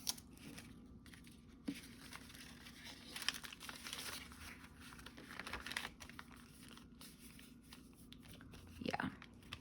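Paper index cards being folded and creased by hand, giving quiet crinkling and crunching rustles in scattered bursts, close and faint, with no talking.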